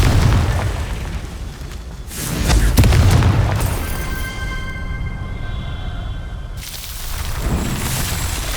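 Confringo fire spell in Hogwarts Legacy, loud booming blasts with crackling bursts, one heavy impact early and another swell later, separated by ringing tonal magic shimmer, no speech.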